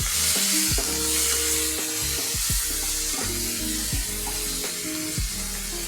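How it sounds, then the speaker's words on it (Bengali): Spices with chili powder and tomato paste fry in a pan, a continuous sizzle under faint background music, with a few sharp stirring knocks at irregular intervals. "এই যে মশলাটা কষিয়ে নিই।"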